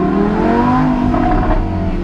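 A Lamborghini Huracan drives through the streets of Monaco, its engine producing a steady, close, loud drone with rising tones as it pulls along, no talking over it.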